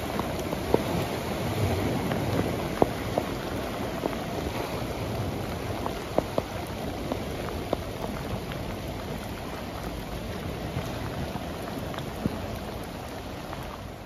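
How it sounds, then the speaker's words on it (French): Heavy rain pours down in Trieste, Italy, a dense, constant hiss with scattered sharper drops landing on nearby surfaces, close and steady throughout with no voices. "La dernière journée, la grosse pluie."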